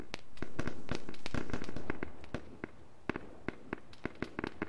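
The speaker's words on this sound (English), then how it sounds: "Well, there's the mortar firing." Mortar rounds firing in a video game, a rapid series of sharp, loud booming shots that clusters densely at first, then thins to scattered single reports spaced out toward the end.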